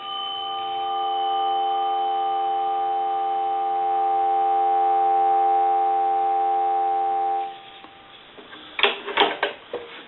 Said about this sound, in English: I'm going to give you some dial tone.